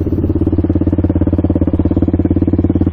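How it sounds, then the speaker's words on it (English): A Suzuki LTZ400 quad's engine runs close by with a fast, steady pulsing thump and a slight clattery edge, holding an even rhythm throughout. "Engine sounds good."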